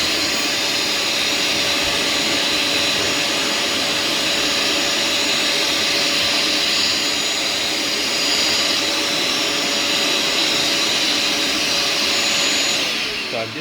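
A Bissell SpotClean Pro carpet cleaner runs on car mats with a loud, steady motor whine and suction roar that holds constant throughout and cuts off near the end.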